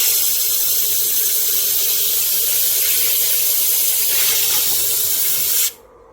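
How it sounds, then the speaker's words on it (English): A sapphire is ground into a cabochon on a lapidary wheel, giving a loud, steady, hissing grind that runs without a break and then cuts off abruptly near the end. "Grinds off pretty quick."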